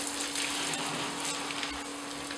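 Water rinses an orangutan during a bath at Taigan park, a steady, close rush of running and splashing water that continues throughout with no speech.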